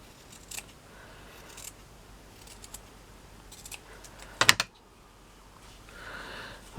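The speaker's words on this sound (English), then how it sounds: "And then I'm going to trim that a little bit." Scissors trim the material of a miniature slipper in a few quick close snips, a faint rustle of handling before and after in an otherwise quiet room.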